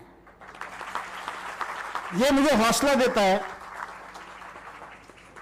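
An audience at a journalism festival hall in Indore claps, a burst of applause rising to a dense peak for about a second and fading, while someone speaks over it before and after.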